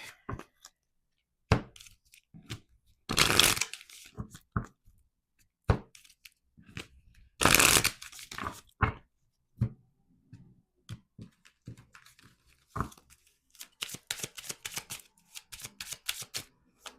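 A deck of numerology cards is shuffled in short, crisp riffles and taps, with two longer fluttering bursts and many scattered clicks close up, and no talking.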